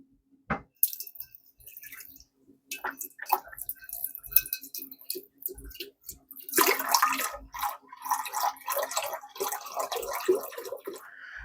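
Beef broth poured from 32-ounce cartons into a crock pot for pulled beef, with irregular splashes and drips, then a steadier liquid gush in the second half, close and moderately loud.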